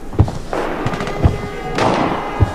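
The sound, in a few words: gunshots in video game Arena Breakout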